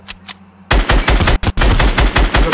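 Rapid automatic gunfire in a PS4 online shooter, loud bursts of close machine-gun fire that break off briefly and resume, following a couple of faint early shots.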